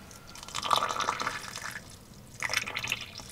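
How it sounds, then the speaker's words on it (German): Water pours and splashes in two short bursts with a pause between as plants are watered, close and fairly quiet. "Ja, müssen wir jetzt gleich mal gießen."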